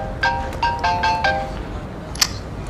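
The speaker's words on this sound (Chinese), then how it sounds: "啊，电话。" A phone ringtone sounds in short melodic bursts, about four rising phrases, clear and close, followed by a brief high click.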